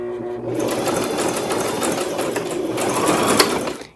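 A sewing machine runs steadily, stitching coiled rope for a small basket; its dense mechanical whir holds for nearly four seconds, close and fairly loud, then stops abruptly.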